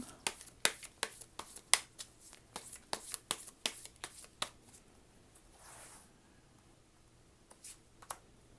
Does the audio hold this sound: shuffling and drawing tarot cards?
yes